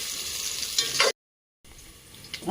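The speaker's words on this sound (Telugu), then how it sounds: "ఇక్కడ ఆనియన్స్ వేగుతున్నాయి చూడండి" Sliced onions fry in a pan for biryani, giving a steady close hiss and crackle. The sizzle breaks off into a half-second of silence, then resumes with small stirring scrapes.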